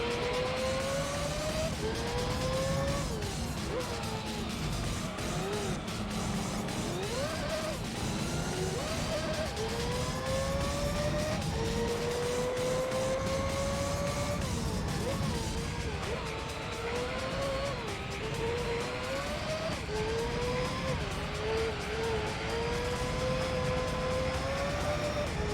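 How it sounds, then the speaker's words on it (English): Race car engine in the video game Gran Turismo 3 holds a steady, loud whine through a full lap, its pitch climbing and dropping sharply with each gear change and corner under continuous racing noise. "engine sounds amazing."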